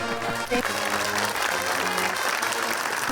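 Lively audience applause breaks out at a comedy quiz show, dense clapping carrying on steadily with a few voices calling out over it.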